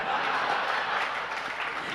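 Applause fills the space at a religious discourse, with dense continuous clapping and crowd noise throughout, fairly loud and steady with no clear separate claps.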